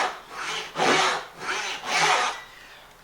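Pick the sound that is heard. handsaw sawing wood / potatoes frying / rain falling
handsaw sawing wood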